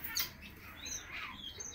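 A small bird chirps briefly nearby, giving a few faint, thin tweets over a quiet background.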